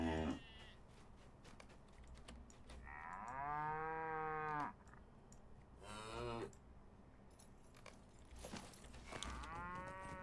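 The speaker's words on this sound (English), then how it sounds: "All these things did was moo at me." Cattle in the Lord of the Rings Online game moo several times in a row, drawn-out lowing calls rising and falling over a steady ambient game background, a couple overlapping close together.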